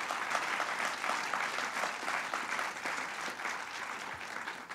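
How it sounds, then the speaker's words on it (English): Steady audience applause fills a screening event for a documentary on a school shooting, a dense wash of many hands clapping at moderate distance without pause. "So let's give them a round of applause."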